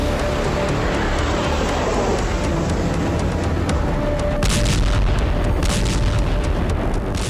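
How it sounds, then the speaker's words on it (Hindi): Explosions and fire in Moscow after a drone strike, heard in news footage as a constant loud roar, with sharper cracking bursts breaking through in the latter half. "मॉस्को आग और धमाकों से दहल उठा"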